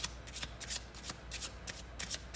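Tarot cards being shuffled by hand during a reading, a steady run of soft riffling, flicking bursts repeating every few tenths of a second, close and moderately quiet with no talk.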